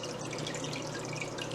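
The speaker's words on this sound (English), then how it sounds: "water's flowing" Water flows steadily in a refilled 75-gallon saltwater aquarium with rock and sand, a soft continuous trickle and splash at low level with no voices.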